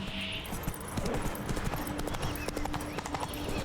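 Hooves of a horse galloping in The Witcher 3 video game, a fast, continuous clip-clop rhythm with ambient game noise and a faint tone, heard up close with no pauses.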